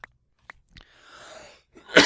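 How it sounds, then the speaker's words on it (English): A man coughs or sneezes, two small clicks first, then a breathy intake and a sharp loud burst at the end, close and alone. "You could probably tell I had a little bit of a cough."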